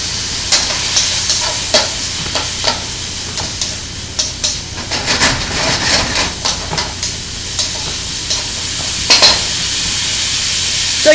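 Broccoli and carrots sizzle and hiss in a hot stir-fry pan, with repeated scraping stir strokes and clacks at an uneven rhythm, close and loud.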